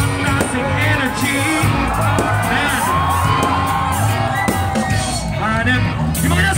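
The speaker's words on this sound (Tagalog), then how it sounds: "Level ang sigawan, ilang ibang nasing energy." A concert crowd at a show in Noveleta shouts, whoops and cheers steadily, a loud wall of voices with someone talking over it.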